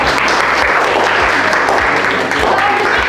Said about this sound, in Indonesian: Silakan berikan tepuk tangan untuk kelompok.